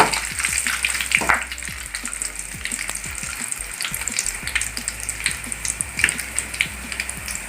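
Crushed garlic and curry leaves fry in hot oil with a steady, dense crackling sizzle, overlaid by scattered sharp pops and occasional stirring scrapes, close and fairly loud throughout.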